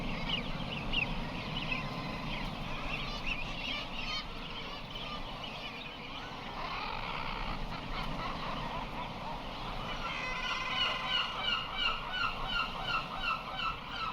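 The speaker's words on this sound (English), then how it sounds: "the bird's defensive squawks and powerful beaks push him back" A colony of guillemots on a Russian sea cliff squawks and honks continuously while driving a fox from a nest, a dense, steady chorus of harsh calls with close outbursts layered over distant birds.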